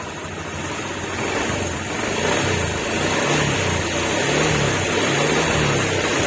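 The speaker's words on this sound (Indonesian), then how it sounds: "kita tinggal ngakselerasi dengan cara digas" A Honda motorcycle engine runs at a steady, loud drone, then rises as the throttle opens and holds a higher, sustained rev.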